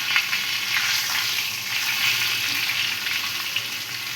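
Eggplant curry sautéing in oil in a pan while being stirred slowly gives off a steady, close hiss of frying with no pauses and no voices.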